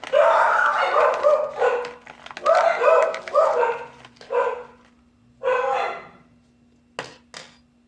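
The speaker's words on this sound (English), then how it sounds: "Sorry about the dogs." Dogs bark in several bursts, loud and close, with short pauses between volleys and a steady low hum underneath.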